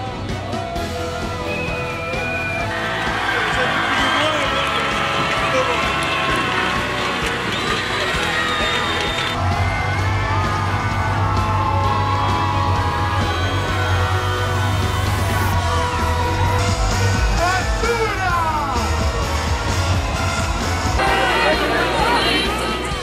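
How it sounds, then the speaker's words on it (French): A large crowd cheers, yells and chatters continuously at a ski resort welcome celebration in Isola 2000, the noise swelling and staying loud throughout, with whoops and shouts rising over a dense babble. "La foule a un effet boule de neige. Plus on descend, plus elle grossit."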